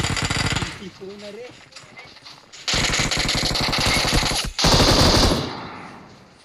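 Rapid automatic gunfire in the mobile shooter BGMI rattles in long, loud bursts, with a quieter stretch between, while a player talks excitedly over the game audio.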